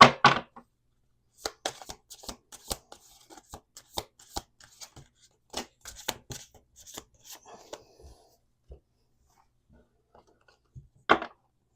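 Playing cards being shuffled at a table, a series of sharp riffling snaps and taps in uneven bursts with quiet gaps between, close and fairly loud.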